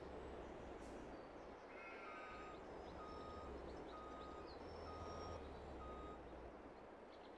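A truck reverses in Farming Simulator 22, its steady series of high reversing beeps sounding through a dense, constant engine and ambient rumble, with faint animal calls from nearby livestock.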